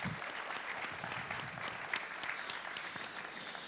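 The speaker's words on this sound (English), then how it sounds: "Another round of applause for Elder Cardinal" An audience at an environmental excellence awards ceremony claps steadily in a hall, a moderate wash of overlapping handclaps heard from a little distance with no voices on top.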